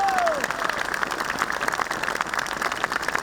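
Applause from a crowd at a public address about reform of the Armenian Apostolic Church, a steady dense clapping that runs throughout, loud and fairly close, with no speech over it.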